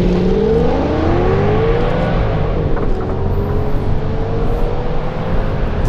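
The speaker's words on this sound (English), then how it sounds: "now we're gonna test the acceleration, see if we've got some nice traction out of these tires" An Audi S6 Quattro launches hard from a standstill on Toyo Proxes Sport A/S tires, its engine note climbing steadily in pitch as it accelerates, loud and close throughout with no talking.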